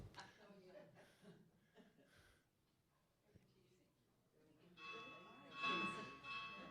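Church bells ring out with sustained, shimmering tones in the latter part, preceded by scattered voices and light laughter; moderately loud and reverberant.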